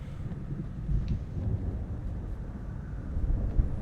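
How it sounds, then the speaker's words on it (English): Low, rumbling thunder rolls on at a distance in Alan Wake Remastered, a faint, continuous murmur mixed with wind-like noise and no voices. "It was just a thunder."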